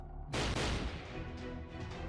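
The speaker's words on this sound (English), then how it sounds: "Those were gunshots, dang it." A sudden heavy burst of gunfire in the Fate Grand Order video game, a loud booming blast that rolls into a sustained rumbling wash and slowly fades.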